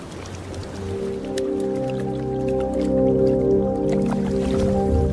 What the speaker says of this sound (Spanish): Aquí las burbujas estallan bajo el hielo.